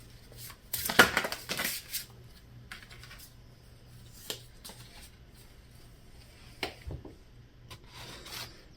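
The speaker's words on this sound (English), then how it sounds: "Last shuffle." A deck of tarot cards is shuffled in a quiet room, a quick riffling burst followed by a few soft scattered taps and slides of cards.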